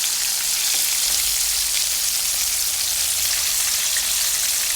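Fermented fish, pla som, fries in hot oil in a pan with a dense, even hiss and crackle. The sound is close, steady for the whole stretch, and no talk is heard.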